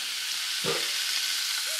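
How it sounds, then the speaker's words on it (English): Chicken breasts sizzle and pop steadily in olive oil in a pan, a continuous bright frying hiss with one soft low bump partway through and no talking. "you can still hear it's like sizzling, popping"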